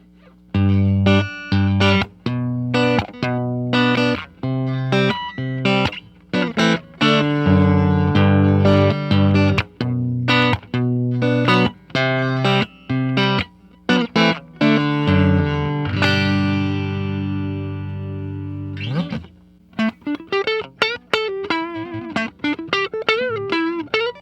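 Clean electric guitar played through a single pedal with no added reverb: a run of plucked notes and strummed chords, some ringing out and others clipped short, with brief gaps between phrases and no voice.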